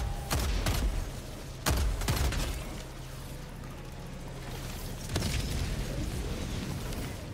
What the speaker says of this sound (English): You see a lot of gunfire going.